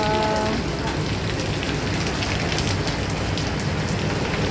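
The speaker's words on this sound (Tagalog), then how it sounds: "Ang lakas po ng ulan." Heavy rain at an outdoor market in Tai Po pounds down in a dense, steady roar of drops striking surfaces, loud and unbroken throughout, with a brief voice at the very start.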